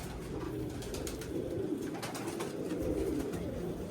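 Pigeon cooing continuously, moderately close, steady low murmuring calls through the whole stretch with no talk.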